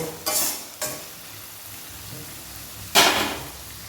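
Boal fish tel jhal, a spicy Bengali curry, being sautéed in a pan: three distinct scraping stirs of a spatula, two close together early and one louder near the end, over a faint low sizzle.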